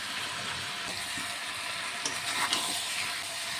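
Young jackfruit and boiled potato sautéing with spices in hot oil give a steady close sizzle and hiss, with a few soft stirring scrapes near the end and no talking.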